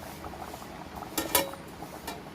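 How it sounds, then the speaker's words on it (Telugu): Bottle gourd curry simmering in an uncovered pot, done Andhra style. It makes a soft, steady bubbling with a couple of sharper pops partway through, with no talk over it. "సో అంత దప్పలం అయితే మరుగుతుంది"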